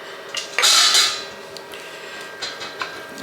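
Utensil scraping and clinking against a mixing bowl while apple filling for cinnamon rolls is stirred together in a home kitchen, one louder burst of clatter followed by quieter intermittent taps, no talking.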